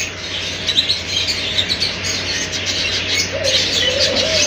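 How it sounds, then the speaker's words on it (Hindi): Many birds chirp and tweet together at a bird market in Saudi Arabia, a dense continuous twittering with some cooing, steady and fairly loud throughout. "बहुत सारे चिड़िया परिंदे यहाँ पर बहुत हैं"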